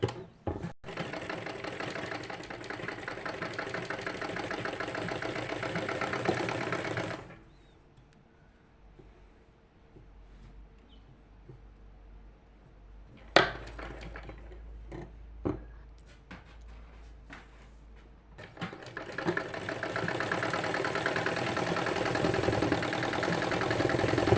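A sewing machine stitches a sleeve in two loud, steady whirring runs, one at the start and one near the end, separated by a quiet gap with a few clicks and handling sounds.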